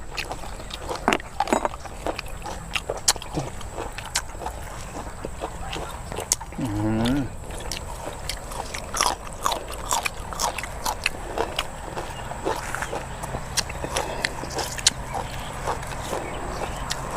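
Someone bites and chews corn papaya salad at a Thai-style outdoor meal with grilled ribs and frog, giving scattered crunchy bites and chewing clicks, close and fairly soft, with people talking intermittently.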